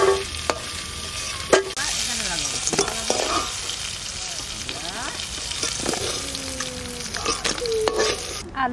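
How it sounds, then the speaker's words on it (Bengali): Crabs from the Sundarbans frying in a pan with steady sizzling hiss and occasional clinks of a spatula stirring, loud and close throughout, no talking. "কাঁকড়া ভাজা হয়ে গেছে"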